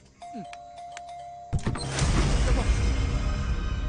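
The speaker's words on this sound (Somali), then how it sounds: "mar kale gambaleelka ku dhufo" A single electronic chime rings out near the start, followed by mechanical rattling and a broad rumbling noise that continues to the end.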